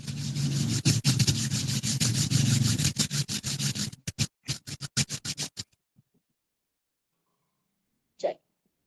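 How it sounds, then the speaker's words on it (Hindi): Both hands rubbed together vigorously, a dense scraping swish that breaks into short separate strokes, then stops, followed by silence and a brief faint sound near the end. "दोनों हाथों को अच्छे से रब करें।"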